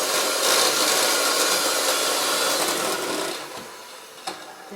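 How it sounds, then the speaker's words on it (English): A hand-held electric beater whirs through butter for oat bars, a loud steady buzzing rush that gradually eases off, then a short clack near the end. "we're going to beat that together. The butter breaks up."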